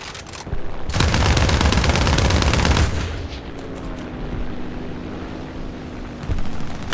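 Aircraft cannon fire from an A7He1 fighter in War Thunder air arcade, a loud sustained burst of rapid shots for about two seconds, then engine drone and a second short burst near the end.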